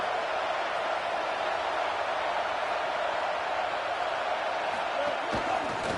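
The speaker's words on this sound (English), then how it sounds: "The Buckeye crowd alive on 3rd down." An Ohio State football stadium crowd roars on third down, a steady, broad wash of distant cheering and noise that holds evenly throughout.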